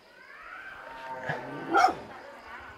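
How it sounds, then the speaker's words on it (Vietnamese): A dog in a Vietnamese village gives a short whimpering, yelping bark, rising to a sharper yip near the end, fairly close, with faint background voices. "Ui, con chó. Cháu ơi, con chó nó dọa chú sợ quá."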